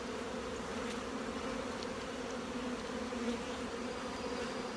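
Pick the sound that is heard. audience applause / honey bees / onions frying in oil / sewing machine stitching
honey bees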